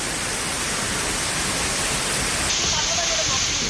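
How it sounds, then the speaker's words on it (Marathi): Water gushes down like a waterfall beside a landslide-blocked road on the Mumbai-Pune connecting link, a steady loud broadband roar that continues without a break. "आणि धबधब्यासारखं वाहणारं पाणी।"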